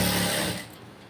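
A sewing machine stitches a side seam on a garment in a quick, close burst of mechanical whirring, then fades out within about a second.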